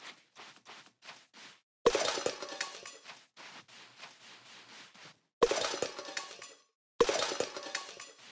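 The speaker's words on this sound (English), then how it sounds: "It sounds like cans, but it's glass." Glass smashes in the video game Critter Cove: three loud crashing bursts of shattering glass and tinkling shards, separated by lighter clinks and rattles like tossed trash, with short silent gaps between them.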